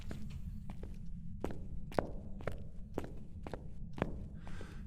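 Hantu ghost footsteps in Phasmophobia, a run of evenly spaced soft thumps roughly every half second over a low constant hum, moderately quiet and steady in pace.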